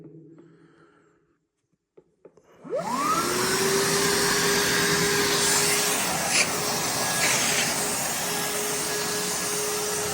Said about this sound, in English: let me give you a quick example of how this thing sucks up stuff.